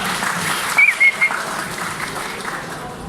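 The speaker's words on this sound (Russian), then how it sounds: "Давайте поддержим аплодисментами, пока у нас заминка." Audience applause at a Russian barber week event, steady clapping filling the room at moderate level, with a few brief sharper sounds rising above it.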